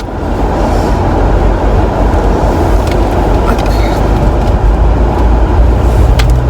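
A car engine warming up runs as a loud, steady rumble close by with broadband road and cabin noise, no voices over it.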